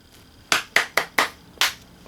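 Five sharp hand claps sound close and alone, spaced at an uneven but quick rhythm, each one crisp with a short decay over a quiet background.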